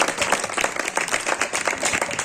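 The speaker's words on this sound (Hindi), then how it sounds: "एक बार मंडल के लिए जोरदार तालियां।" An audience claps for a kirtan devotional singing group in a loud, dense burst of applause that stays steady and close, with no talking over it.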